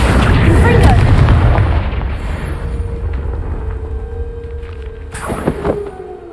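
The Confringo fire spell from Hogwarts Legacy erupts in a loud, deep, close explosion that rumbles and fades over a couple of seconds, followed by crackling debris and a sharp burst near the end.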